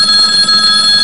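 A phone rings with a steady electronic tone, loud and close, filling the short moment without any talking.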